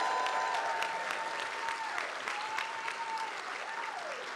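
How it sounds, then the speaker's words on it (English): An audience breaks into sustained, even applause at a White Coat Ceremony for a medical college's incoming class, dense clapping filling the hall for several seconds with a faint tone running underneath. "Come on, give a hand clap of praise."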